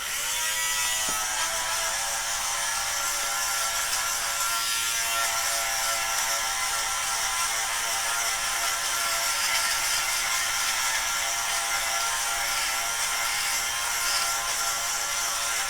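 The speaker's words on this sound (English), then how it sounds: "I think I'm going to do a little quick sweater shave." A fabric shaver buzzes steadily across a sweater with light fuzz, a continuous close mechanical whir with a faint rasp as it skims the knit, holding the same level throughout with no speech.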